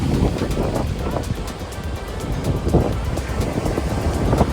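Surf breaks steadily along the Namibian coast in a loud, continuous wash of waves, heavily buffeted by wind hitting the microphone, with no voices.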